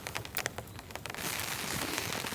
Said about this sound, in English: some quite nice little drizzle coming down